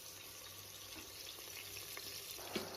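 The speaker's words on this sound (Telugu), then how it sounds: "ఆనియన్ స్మెల్ రాకుండా బాగా బ్రౌన్ కలర్ వచ్చే వరకు వేగించుకోవాలి." Onion paste frying in oil with bay leaves for squid curry, a quiet, continuous sizzle with a few soft clicks and a small knock near the end, no talking.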